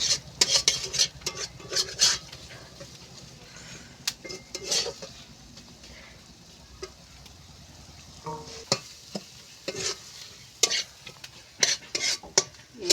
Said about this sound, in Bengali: টমেটো কুচা দিয়ে দেব, দিয়ে এবার সব উপকরণ আমি এইভাবে কষিয়ে নেব